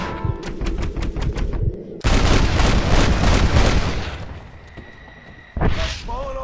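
Gunfire in the western video game Red Dead Redemption: rapid, dense volleys of shots crackle loudly and continuously, easing off toward the end before one last sharp burst.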